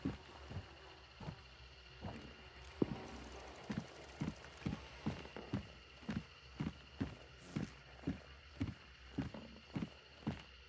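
Horse hooves clip-clopping in the video game Hunt: Showdown, a quiet, regular walking gait of hollow knocks, slightly uneven at first then settling into a steady rhythm over low ambient background.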